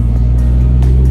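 Toyota JZX110 with an external wastegate, its engine giving a loud close, deep droning rumble with a steady low tone and brief hissy bursts, short and continuous.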